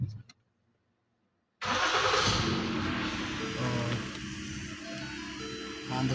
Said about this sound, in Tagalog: So paandarin ko lang po yung sakyan.